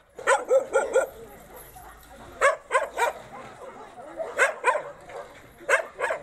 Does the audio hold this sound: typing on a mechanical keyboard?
no